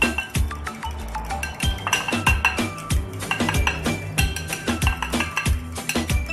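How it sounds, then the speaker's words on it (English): An egg being whisked in a bowl for a ham and mozzarella dish, heard as rapid, rhythmic clinks of a utensil against the bowl, steady and close throughout with no talking. "first, you whisk the egg"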